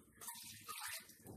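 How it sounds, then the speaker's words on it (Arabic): Water poured from a glass into a cooking pot, a brief gushing splash with short pauses, moderately close and fairly quiet. "غنزيد عليهم كويس ديال الما"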